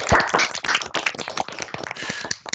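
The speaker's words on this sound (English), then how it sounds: "we'll give John a physical applause as well for thanking him for the keynote" Conference attendees clapping for keynote speaker John at a STEM higher-education conference, a short burst of close, uneven hand claps from a small group.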